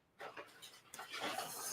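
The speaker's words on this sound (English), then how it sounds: "They're just small dogs, aren't they?" Small dogs panting rapidly indoors, a quick, breathy rhythm close by that continues steadily through the short moment.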